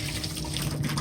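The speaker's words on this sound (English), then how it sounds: "So dump my water out." Water being dumped out during coffee making, a quiet continuous trickling pour over a low background hum, lasting about a second with no voices.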